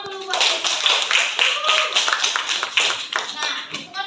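Students in a chemistry classroom clap in a brisk, close round of hand claps while children's voices chatter and call out underneath throughout.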